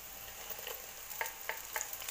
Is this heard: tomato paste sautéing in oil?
yes